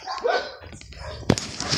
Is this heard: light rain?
no